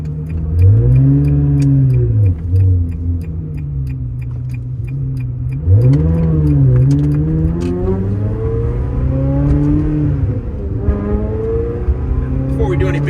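A 2000 Ferrari 360 F1 Modena engine revs up and settles again in repeated swells, heard from inside or close by, with steady running between the pulls while warming up.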